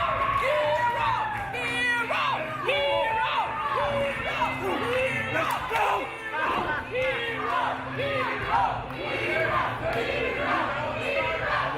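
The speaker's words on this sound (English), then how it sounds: "And the crowd still chanting for Hero Lu." A crowd at a wrestling event chants and shouts in a steady, lively roar that carries through the whole stretch, with a commentator speaking over it.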